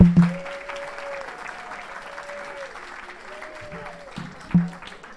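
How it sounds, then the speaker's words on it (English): Applause from a small audience after a talk, light scattered clapping with a few sharp thumps and a tonal hum underneath, fairly quiet overall. "On peut l'applaudir."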